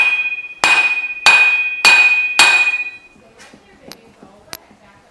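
Four loud, evenly spaced metal hammer whacks strike a gearbox part on a Scrambler 500 2x4 ATV, each ringing briefly, followed by quieter clinks and fumbling handling sounds.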